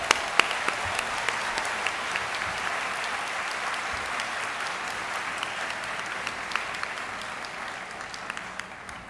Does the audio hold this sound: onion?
no